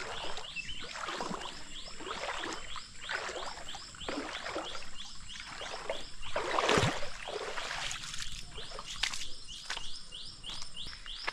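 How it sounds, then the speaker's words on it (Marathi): Birds chirp and call along a village footpath through shallow water, repeated bright tweets at moderate distance over a steady ambient wash, with a few louder splashing or rustling moments. "इथे पक्ष्यांचे आवाज खूप येतात, ऐकायला येत असतील तुम्हाला"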